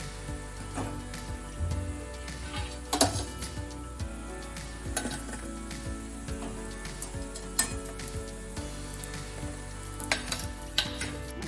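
Mixed-flour sambar tikki fry in a pan with a steady close sizzle, punctuated by occasional clinks and scrapes of a utensil against the pan.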